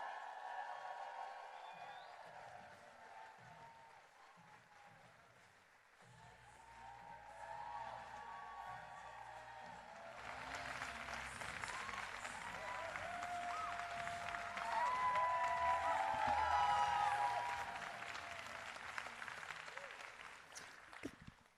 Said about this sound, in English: let's give a big round of applause to the executive director of MoveOn, Anna Gallen